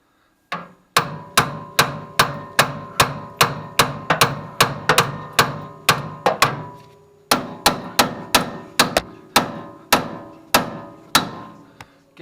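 Steel hammer blows ring out on the spindle of a 1971 Chevy Nova, knocking it loose for drop spindles: about two dozen loud, sharp, close strikes in a fast steady rhythm, with one brief pause midway.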